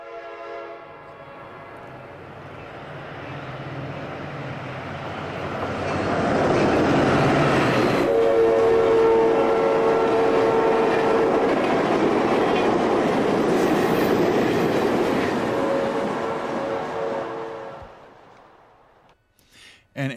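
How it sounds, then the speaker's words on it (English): Amtrak westbound Capital Limited passenger train passing, its roar swelling to a loud, sustained rumble with clattering wheels and a brief horn tone, then fading away. "Amtrak's westbound Capital Limited is next at 4:34 a.m."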